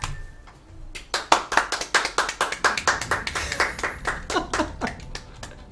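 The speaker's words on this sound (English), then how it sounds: "Everyone, a round of applause." Scattered handclaps from a small group on a developer livestream, starting after a quiet second and then coming as distinct, fairly close claps in an uneven rhythm for about four seconds.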